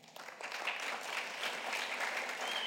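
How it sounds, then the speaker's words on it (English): An audience at a Canadian federal election debate applauds for a few seconds, a dense steady clapping from a crowd, moderately loud without any voices. "I would ask you to hold your applause."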